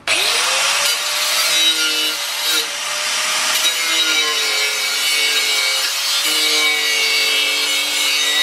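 A thick metal piece being cut for a racing mower throttle pedal gives a loud, continuous grinding cut with a shifting whine, heard close and alone.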